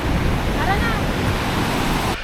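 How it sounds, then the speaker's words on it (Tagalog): Loud, continuous roar of strong ocean surf at a beach in Urbiztondo, San Juan, La Union, with crashing, rushing water and wind buffeting the microphone, a voice briefly audible under the din. "Ganda, ang lakas ng alon."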